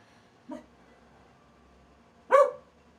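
Two short barks from a dog in a quiet room, a faint one followed a couple of seconds later by a louder, sharper bark.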